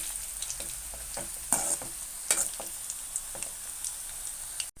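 Ragi onion pakoda frying in hot oil while being turned, a steady close sizzle with scraping stirs and a few sharper clatters, no voices.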